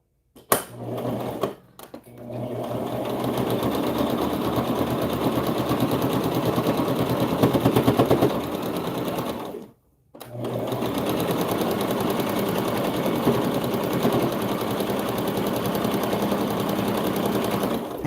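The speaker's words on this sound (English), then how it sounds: "I'm going to start to sew, and then I'm going to backstitch. And then I'm going to sew all the way around." A sewing machine stitches a scrap-fabric satin bonnet with a backstitch, a steady rapid mechanical hum running for long stretches, broken by a brief start-stop near the beginning and a short pause midway.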